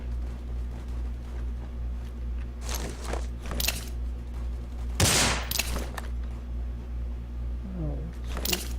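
Bursts of gunfire in the mobile shooter game Rules of Survival, several sharp shots and short volleys spread irregularly over a steady background hum, one loud close burst standing out midway.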